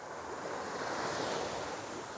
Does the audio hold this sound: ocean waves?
yes